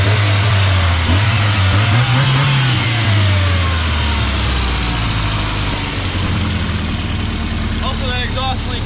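Volvo engine running at a steady idle with some rising and falling revs, loud and close, with a slight exhaust leak hiss and people talking over it.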